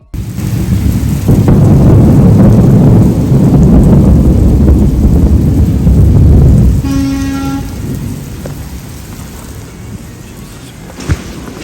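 A severe thunderstorm brings a long, loud roll of thunder over heavy rain. The rumble fades after several seconds, a brief horn-like tone sounds, and softer rain continues.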